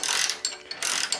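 Ratcheting wrench loosening a bolt on a 2008-or-later Mitsubishi Lancer front strut, a few quick bursts of close clicking pawl ratchets with brief pauses between strokes.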